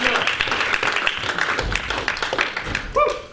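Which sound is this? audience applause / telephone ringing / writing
audience applause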